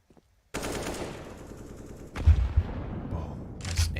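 Rapid automatic gunfire from a Counter-Strike match at a professional esports event, opening with a dense burst of shots, then a sharper cluster of loud cracks and more firing near the end.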